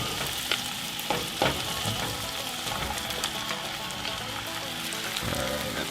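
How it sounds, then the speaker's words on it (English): Zucchini frying in a pan with vegetables and tomato, a dense steady sizzle with occasional clacks and scrapes of stirring, close and fairly quiet. "So we're going to go ahead and put our zucchini in there."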